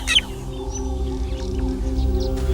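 Drongo giving a false alarm call aimed at meerkats: one sharp, bright call at the start, then faint scattered chirps over a low, steady background hum for a couple of seconds.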